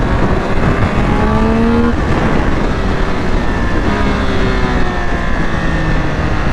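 A 2022 Triumph Speed 1200 RR motorcycle accelerates hard, its engine note climbing steadily through the revs, loud and close with rushing wind and no voices.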